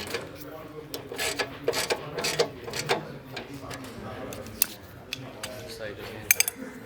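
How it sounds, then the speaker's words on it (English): Hand tightening 10 mm bolts on a car heat shield: irregular metallic clinks and ratchet-like clicks, close by, with a few sharper taps toward the end over low workshop background noise. "Just hand tighten these 10s so they don't have to be crazy torqued down."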